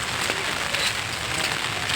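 Heavy rain falls steadily during Durga Puja festivities in Odisha, a dense, even hiss of drops on surfaces with no pauses, fairly close and moderately loud, with no talk.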